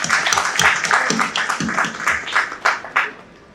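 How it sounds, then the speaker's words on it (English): Steady audience applause at a keynote speech at an Asian business event, a dense, even patter of many hands clapping that fills the hall and eases off slightly toward the end. "a big round of applause for Mumbai City"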